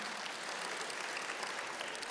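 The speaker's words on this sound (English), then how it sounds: "big round of applause for all of our candidates" Party congress audience in Vienna gives the candidates a round of applause, a short, even burst of many hands clapping at moderate distance.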